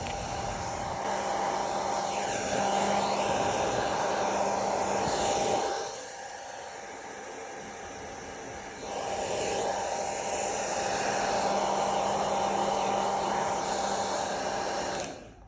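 A cheap secondhand hair dryer blows steadily while drying fresh black paint, a loud continuous whoosh with a faint whine that briefly cuts out for a few seconds midway, then resumes.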